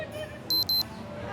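An alarm clock beeps twice in quick, high-pitched electronic bursts over a low room background.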